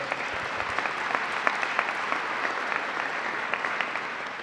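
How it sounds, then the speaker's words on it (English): An audience claps through a government announcement event in Buffalo, a steady moderate round with distinct individual claps standing out above the wash. "Let's give them a round of applause."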